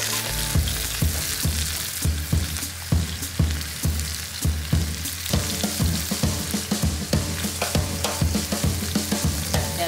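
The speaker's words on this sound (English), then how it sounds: "In order to seal that flap down, I'm going to sear it that side down first." A chicken roulade with callaloo filling sears flap-side down in hot olive oil in a preheated pan, giving a steady loud sizzle and crackle with rapid spattering pops throughout and no voices.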